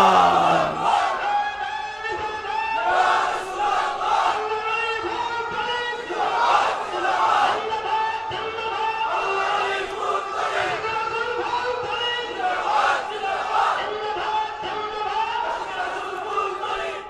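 Large crowd at a Bengali Islamic religious gathering chanting back in loud unison, repeated rhythmic surges of massed voices filling the space.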